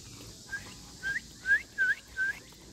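Close by outdoors in a residential neighbourhood, a bird sends out a run of five short, rising whistled calls spaced about half a second apart over a faint background hush.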